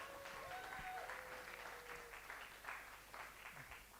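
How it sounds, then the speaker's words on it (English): An audience at a hackathon event applauds the participants, a steady faint wash of clapping heard from a distance that lasts throughout. "I'd like everyone here to give a cheer and a clap to all the participants in the hackathon"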